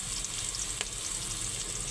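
Ginger and garlic paste frying in oil in a cooking pot with chopped onion and green chillies, a steady low sizzle with one brief stir clink midway, fairly quiet and with no talking.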